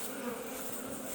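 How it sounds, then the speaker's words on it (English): Honeybees buzz in a soft, continuous drone, faint and steady, with no other sounds. "it's got some bees coming up."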